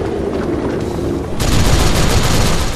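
Gunfire blasts from Ninja Blade on Xbox 360, a dense, loud wall of shots that swells sharply partway through and holds steady, with no talk over it.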